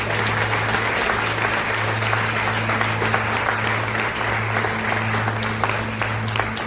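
Congregation applauding during a church sermon, a loud, sustained wash of clapping from many people with a steady low hum beneath and no speech over it.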